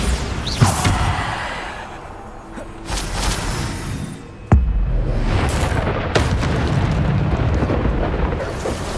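Bombarda spell blasts in Hogwarts Legacy: several deep booming explosions with sharp cracks of impact, one especially loud, over a continuous rumbling battle din.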